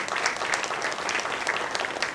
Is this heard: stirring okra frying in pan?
no